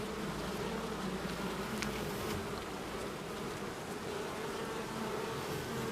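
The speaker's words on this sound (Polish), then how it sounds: "to jest pszczoła rojowa, to jest druga rójka, która mi wyszła z jednego ula" A dense, steady buzzing of a honeybee swarm close by, continuous and loud throughout with no voices.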